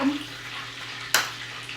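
A soft steady sizzle of chicken Kiev frying in a pan hisses in the background, broken by a sudden sharp scrape or clatter near the end.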